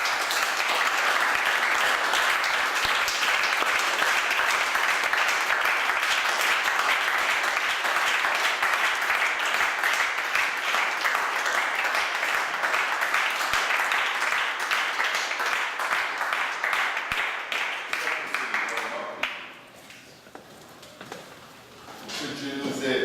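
A church congregation applauding the Lord, loud sustained clapping from a large crowd for about twenty seconds, with cheering mixed in, then fading out.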